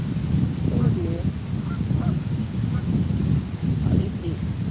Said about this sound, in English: All these geese.